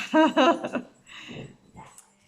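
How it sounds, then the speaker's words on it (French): Young puppies squabble over a toy: a burst of high yips and whines up front, then softer whimpering snuffles trailing off, close and fairly loud. "ils sont en train de se disputer un petit peu pour un jouet alors qu'il y en a de partout. Ce sont des chiots"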